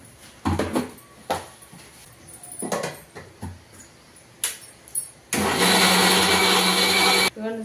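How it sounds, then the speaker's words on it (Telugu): A mixer grinder blending coriander, cumin, salt and curry leaves into a coarse chutney roars loudly for about two seconds near the end, after a series of clattering knocks and handling sounds. "కొంచెం ఉంటే కొత్తిమీర కూడా వేసుకొని మిక్సీ పట్టండి"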